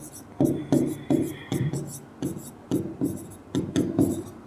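Chalk or marker writing on a board during a classroom history lesson, with a series of short taps and strokes in quick bursts, close and fairly soft, and a faint voice now and then.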